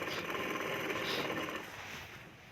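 A sewing machine runs a double line of stitching along a katori blouse seam, a steady close whirring hum that winds down after about a second and a half.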